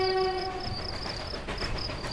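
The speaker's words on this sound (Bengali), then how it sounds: "ট্রেন ধীরে ধীরে কুয়াশা ভেদ করে এগিয়ে চলে।" A train rumbles along the tracks with a steady rolling noise, while a high whistle-like tone sounds repeatedly over it; no talking.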